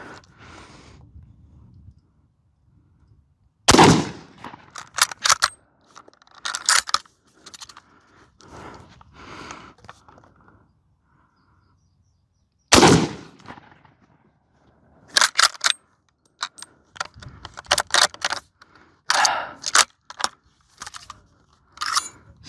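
A Carcano surplus rifle fires two sharp, loud gunshots several seconds apart outdoors, each followed by clattering bolt and handling clicks, with quiet stretches between.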